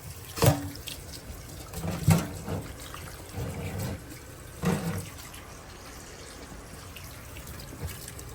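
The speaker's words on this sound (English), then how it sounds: "Put them under cold water." Cold tap water runs over peeled tomatoes, with a few short splashy bursts and thumps against a faint, steady background, close and fairly quiet.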